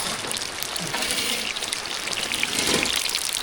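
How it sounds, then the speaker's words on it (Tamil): Rain falls steadily at an outdoor cooking spot where fish curry and fried fish are being made, a dense, even hiss of drops with slight trickling that holds at a constant level. "மழையும் வந்துட்டு கொஞ்சம் இருக்கு"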